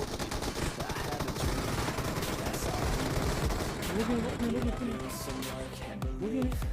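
Rapid bursts of gunfire and booming bomb blasts in the mobile game BGMI pile up densely and loudly, with voices underneath the constant racket.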